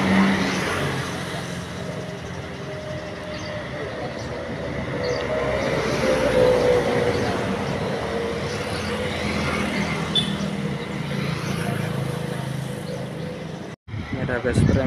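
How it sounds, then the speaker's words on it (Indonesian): Premium bus pulling away from a roadside bus agent in Cigaru, Indonesia, a loud steady engine drone and road rumble building over the whole stretch, with talking over it. "Oke, bus premium Luna diberangkatkan dari agen Cigaru."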